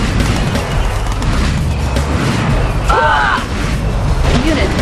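Booming blasts and rumbling explosions from a missile launch in the Yuri's Revenge strategy game, a dense, loud continuous roar with a brief whooshing sweep partway through.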